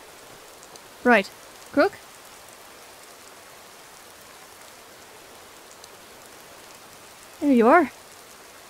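Rain falls steadily in Skyrim, a soft even hiss running throughout while someone speaks in a few short bursts over it.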